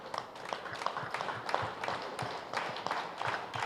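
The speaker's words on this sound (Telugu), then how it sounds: "ఒకసారి మన ధ్యానానికి గట్టిగా చప్పట్లు కొట్టుకుందాం." An audience at a World Women's Day program in Gudiwada claps together after a meditation session, a steady, rhythmic crowd applause that holds at a moderate, slightly distant level throughout.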